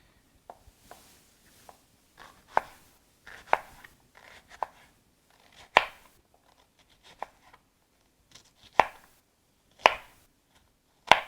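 A knife chopping onion on a board, a series of sparse, sharp cuts at an uneven pace, some faint and some crisp and louder, with quiet gaps between strokes.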